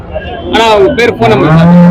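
Cattle low loudly and repeatedly at a large early-morning cattle market in Karimangalam, the drawn-out moos overlapping amid the general background noise of the market.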